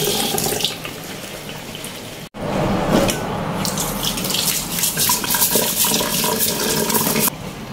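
Tap water runs hard into a sink while crabs are scrubbed clean. The steady rushing splash cuts out briefly, returns with sloshing and clatter, and drops off near the end.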